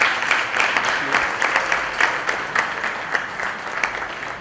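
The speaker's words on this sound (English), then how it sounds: "Big round of applause for her, please." A ceremony audience at a regional summit claps for a prize winner, with distinct individual claps standing out in a moderately loud, slightly uneven round of applause.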